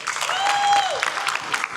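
Short burst of warm audience applause welcoming a speaker on stage at a talk on AI and human development, bright clapping with a steady tone running across it.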